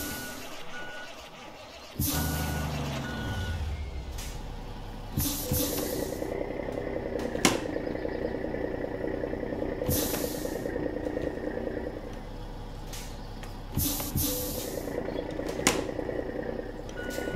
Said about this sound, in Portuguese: Tá quebrando o caminhão todo do Bocão, né?